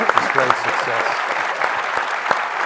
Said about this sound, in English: I think we ought to give him a round of applause